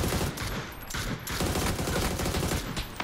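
Rapid automatic gunfire in the battle royale game PUBG, loud and dense bursts crackling continuously for about three seconds with barely a pause.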